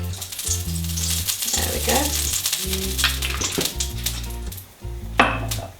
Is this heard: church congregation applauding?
no